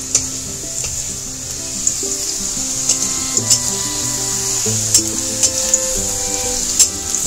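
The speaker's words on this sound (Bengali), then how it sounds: "আমার বেগুনগুলো মোটামুটি ভাজা হয়ে গেছে" Eggplant pieces fry in hot oil while shukto is cooked, making a loud continuous sizzle with occasional sharp spatula clicks and stirring scrapes, heard alone.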